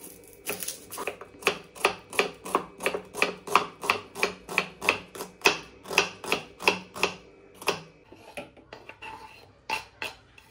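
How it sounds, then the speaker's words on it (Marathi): Tomato and onion chopped finely with a knife on a board: a steady run of about twenty crisp, evenly spaced strikes, close and fairly loud, slowing and thinning out near the end, with no talk. "टोमॅटो आणि कांदा मस्त फाईन चॉप करून घेऊ"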